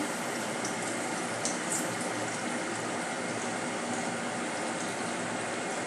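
Green chilies frying in hot oil for mirchi vada, a steady dense bubbling sizzle that holds at an even level throughout, close and unbroken with no talking.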